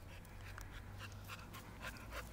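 A dog pants quietly and steadily up close, with quick rhythmic breaths and no talking.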